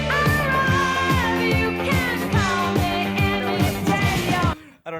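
A song plays as a recording, a full band mix with punchy drums, bass and a melodic lead, loud and continuous before cutting off abruptly.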